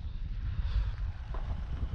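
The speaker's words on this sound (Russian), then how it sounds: "Сегодня ветрище такой сильный задул." Strong, cold wind on a motorcycle trip to Murmansk buffets the microphone, producing a continuous low, gusty rumble with no talking.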